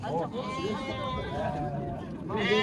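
Sheep and lambs at the Kara-Balta livestock bazaar bleat close by, with one long wavering call and a second starting at the end, heard over the murmur of people talking.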